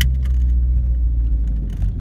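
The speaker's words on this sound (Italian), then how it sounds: "posso farvi ascoltare la sinfonia del 1351 centimetri cubi" The 1351 cc boxer engine of a 1992 Alfa Romeo 33 1.3 runs steadily, heard onboard from inside the car as a low, loud, continuous rumble with light rattles on top.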